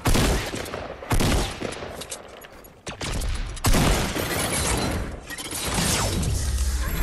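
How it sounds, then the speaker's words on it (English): Shotgun blasts and a chaotic firefight in Fortnite, several loud sharp bangs with shattering crashes between them, busy and close throughout, with no voices. "he's using a shotgun on me."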